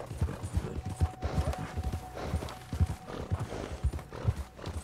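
A horse walks along a snowy mountain trail near a frozen lake in the video game Red Dead Redemption 2, its hooves falling in a steady, soft clip-clop rhythm close by, with a faint whinny underneath.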